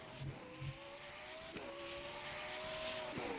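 McLaren Senna GTR race car in rFactor 2 at Sebring, engine note rising through gears with sharp shifts, a close continuous whine climbing in pitch after two brief low blips.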